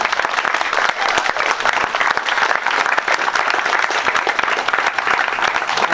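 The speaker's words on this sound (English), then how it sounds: "please could we just give a round of applause to the team" A crowd at a GOP primary election celebration in Everson, Washington gives a steady, dense round of applause that stays at a constant level from start to finish.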